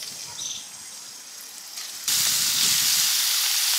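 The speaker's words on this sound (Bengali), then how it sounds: "ভেজে নিলাম।" White cooking oil with half a spoon of ghee sizzles in a pan, a soft hiss that suddenly jumps to a loud, steady broadband sizzle partway through.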